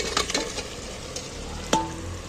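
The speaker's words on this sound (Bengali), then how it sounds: "এইবার আমি ভেজে রাখা আলু আর মাংস একই সাথে তুলে দিচ্ছি।" Fried potatoes and chicken go into a pan of hot spice masala for a chicken curry with ground fennel, giving a steady close sizzle with stirring scrapes and a sharp clatter as the pieces drop in, no voices.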